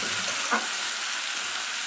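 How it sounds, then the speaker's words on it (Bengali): Onions frying in a pan for a home-cooked fish dish, a steady close sizzle with a brief stirring scrape near the middle, alone without talk. "এই পেঁয়াজটা একটু লাল লাল হয়ে গেলে আদা আর টমেটোটা দিয়ে দেবো"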